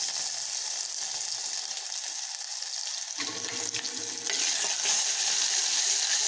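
Ginger-garlic paste with asafoetida and cumin fries in hot oil in a pot, giving a steady close sizzle and crackle that grows louder partway through. No one speaks.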